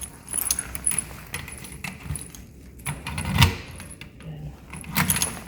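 A bunch of keys jangling close by in hand outdoors after dark near a public bath house in Japan, in a few short metallic shakes with quiet rustling between.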